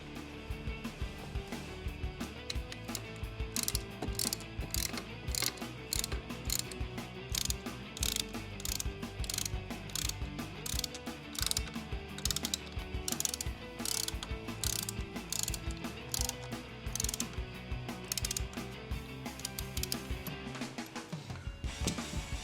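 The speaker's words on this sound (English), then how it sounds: "You're going to want to grab your T40 Torx bit and get started on these front 2 bolts." A ratchet driving a T40 Torx bit clicks steadily as it tightens bolts on a Touratech reinforcement kit for the crash bars of a BMW R1300GS motorcycle, with rapid, close, continuous pawl ticks running almost throughout.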